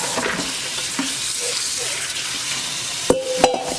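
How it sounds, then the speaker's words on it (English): Tap water runs into a kitchen sink over pork for carnitas, a steady hiss with a couple of sharp clunks near the end, and no one speaking. "all you want to do is you need some running water"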